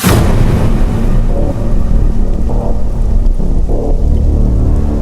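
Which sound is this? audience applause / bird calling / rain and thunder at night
rain and thunder at night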